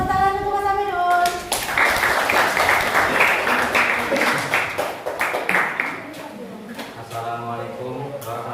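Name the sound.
class applauding a student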